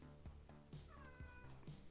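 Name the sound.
cat meowing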